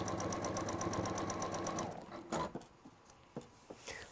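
A sewing machine stitches textile in a rapid, even mechanical patter for about two seconds, then stops, leaving a few soft handling clicks and quiet movement in the room.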